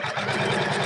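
A sewing machine runs at steady speed stitching a seam, a continuous close mechanical whirring and buzzing for just under a second.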